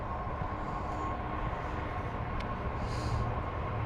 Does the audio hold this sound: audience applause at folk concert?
no